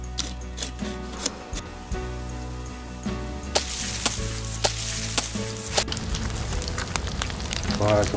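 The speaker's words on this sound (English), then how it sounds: "That's where we need to cook before this meat goes bad." Meat sizzling while cooking in the DayZ survival video game, a steady frying crackle under faint music and sharp intermittent clicks, with a voice briefly heard.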